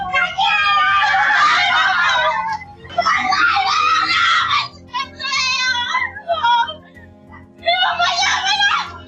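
A young woman and her grandmother scream and wail in terror and grief, loud, sustained and anguished cries in several long bursts with brief gaps.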